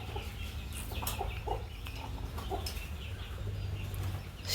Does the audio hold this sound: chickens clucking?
yes